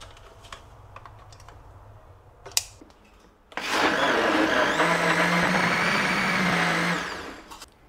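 A kitchen blender whirs into a loud, steady roar as it blends a sweetened drink at home, running for several seconds before cutting off, after a few faint knocks and clatters.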